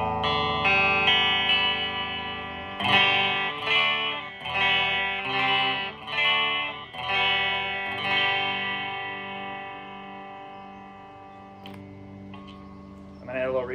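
A 1990s Stratocaster-style partscaster electric guitar on its bridge pickup, with a bright, slightly distorted tone, plays a series of ringing chords and notes that sustain and fade out, with a brief noise at the end.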